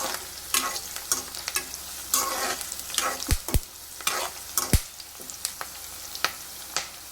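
Onions and curry leaves sizzle in a hot pan while a spoon scrapes and stirs through them, giving a steady frying hiss broken by several sharp clinks and scrapes against the metal.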